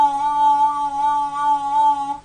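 A single sustained harmonica bend drawn on a diatonic harmonica, a steady reedy tone with a slight wavering pitch lasting about two seconds, close and unaccompanied.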